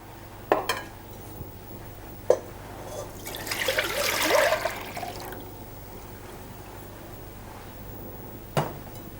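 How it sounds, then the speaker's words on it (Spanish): Milk poured into a pot to be boiled with cinnamon and lemon peel, a liquid splashing burst of a couple of seconds in the middle, framed by a few sharp knocks of cookware. "lo que es la leche, que la vamos a poner a hervir con un poco de canela y una cáscara de limón"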